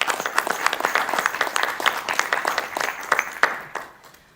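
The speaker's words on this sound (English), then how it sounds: "Let's give them a round of applause." An audience at a school board meeting claps in applause, a dense patter of many hands that rises, holds for several seconds and then tapers off.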